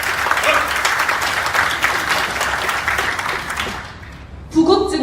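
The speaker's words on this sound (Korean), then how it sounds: "큰 박수로 환영해 주시기 바랍니다." Loud, sustained applause from a large crowd welcoming guests at a Korean shopping mall partnership ceremony on Yeongjong Island, with a dense wash of clapping that drops off abruptly near the end.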